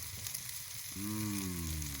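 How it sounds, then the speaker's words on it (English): Brussels sprouts and garlic sizzle in a hot pan, a soft steady frying hiss with a low hum starting partway through. "listen to that sizzle."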